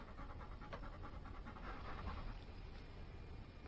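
A dog pants in quick, rhythmic breaths, close and fairly quiet, steady throughout with no other sounds or voices.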